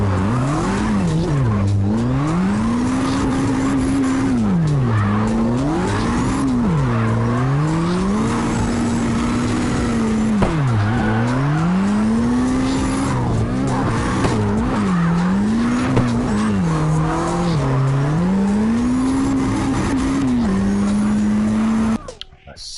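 A car drifts in the CarX video game with long, continuous tire squeal that bends up and down in pitch over the engine's steady roar, sustained and loud throughout.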